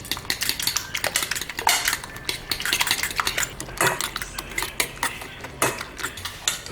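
Eggs, tomatoes and herbs being beaten for an omelette with a utensil clattering quickly and steadily against a dish, a busy, close run of clinks and scrapes with no talking.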